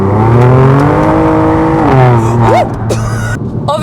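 A BMW M2 Competition with a smaller, fewer-cylinder engine revs hard outside the car, rising and falling through the gears with a loud, close, raspy tone.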